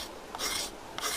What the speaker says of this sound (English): I guess we could use a scraper.